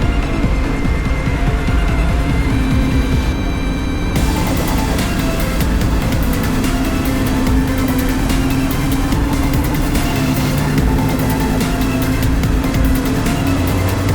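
Racing car on an SCCA track engine droning loudly and steadily from on board while passing another car, with a dense, unbroken roar throughout.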